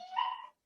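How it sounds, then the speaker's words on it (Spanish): A single short dog bark, moderately close and clear, that cuts off abruptly into silence. "Siempre habrá aquí ruido de perros."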